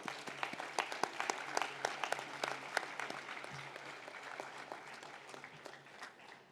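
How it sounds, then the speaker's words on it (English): Faint, somewhat distant round of applause for graduates at a university commencement ceremony, individual claps audible, gradually thinning toward the end. "Let us give a round of applause to the graduates who have just been presented"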